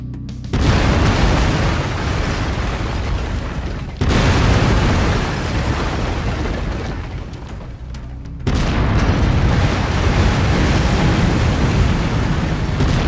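Heavy autocannon fire from a mech in Mechwarrior 5 Mercenaries, loud booming sustained bursts in three long stretches with sharp restarts, dense and roaring throughout.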